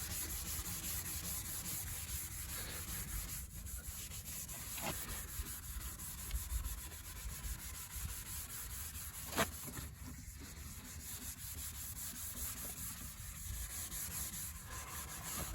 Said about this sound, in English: I'm gonna give it a scuff, blow it off, wash it off and show you